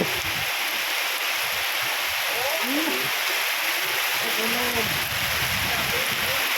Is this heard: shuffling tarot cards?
no